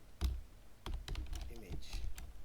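Typing on a computer keyboard: a series of close, crisp key clicks in uneven bursts, some quick runs and a few single strokes, with a soft thump near the start.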